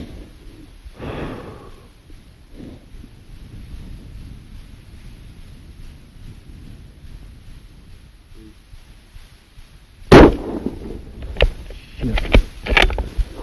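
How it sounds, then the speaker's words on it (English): A hunting rifle fires at a trophy mule deer on a steep, snowy high-country slope in Wyoming, one sharp loud blast breaking a quiet stretch of breathing and wind, followed by shuffling and handling noise. "I decided to take a shot a little longer than I would have liked"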